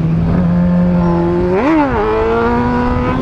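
A Honda Hornet motorcycle engine holds a loud, close, steady tone at speed, then revs up sharply and drops back to a higher sustained drone, strongly harmonic and continuous.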